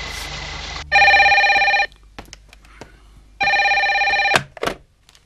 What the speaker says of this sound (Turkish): Zeliha, telefon sana.